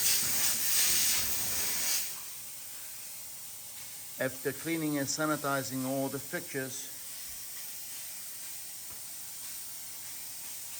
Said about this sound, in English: we use steam to clean the entire tile area, removing all the dirt and grease